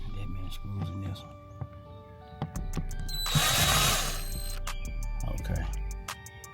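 A power drill backs screws out of a wooden subwoofer box: scattered clicks and handling knocks, then a close, loud whirring burst of under a second midway, followed by more tool and handling noise.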